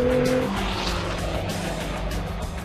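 Customised road cars race around Castle Combe circuit, a loud steady engine roar with tyre squeal running throughout, close and continuous with no talking.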